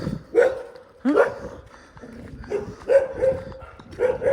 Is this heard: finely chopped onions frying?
no